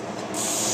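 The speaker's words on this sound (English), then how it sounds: "Always spray off to the side first to clear your nozzle." Spray paint hisses from an aerosol nozzle in a brief, steady mist directed off to the side while restoring a 1941 Zenith Model 6-S-597 vintage radio, starting after a short quiet moment and holding loud and close.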